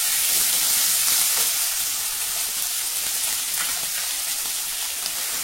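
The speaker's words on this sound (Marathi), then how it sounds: "एक मध्यम आकाराचा बटाटा बारीक काप करून घालत आहे" Thin slices of medium potato sizzle in hot oil with fried peanuts and green chilli, a steady, loud, close frying hiss that barely changes throughout, with no voices.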